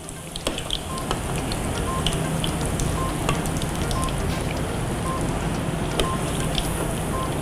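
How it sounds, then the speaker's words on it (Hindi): Potato cheese drumsticks coated in egg and breadcrumbs fry in hot oil, a dense continuous sizzle with crackling pops throughout, close and fairly loud. "बाकी की भी मैं फ्राई कर लेती हूँ उतनी देर में"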